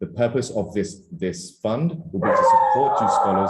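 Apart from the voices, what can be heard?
dog barking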